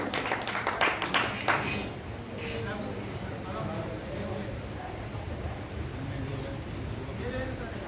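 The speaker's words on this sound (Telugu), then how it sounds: "చప్పట్లో వారికి స్వాగతం పలుకుతామండి" Audience clapping to welcome a guest at a medicinal plants knowledge seminar in a hall, with a burst of applause at the start that fades into room noise after about two seconds.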